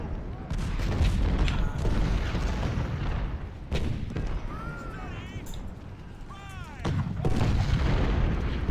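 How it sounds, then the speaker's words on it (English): Artillery fire in the Ultimate General: Civil War video game: several heavy booms burst out of a dense, continuous battle din, with scattered chirping and clattering sounds woven through the mix. "There is artillery firing at us from there."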